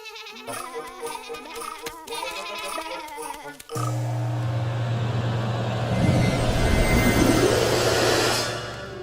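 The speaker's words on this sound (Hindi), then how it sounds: "अपनी भेड़ें संभालो श्रीधाम।" Cartoon sheep bleating loudly in an animated Krishna series, a short wavering bleat rising over a steady low drone that swells toward the end, with no talk.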